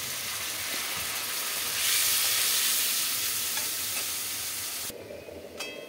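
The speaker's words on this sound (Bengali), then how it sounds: "অল্প জল দিয়ে একটু মশলাটাকে কষিয়ে নেব।" Spice masala for a brinjal, potato and hilsa curry is sautéed in a pan with a splash of water, giving a loud, close hiss that swells briefly, then drops suddenly to a quieter simmer.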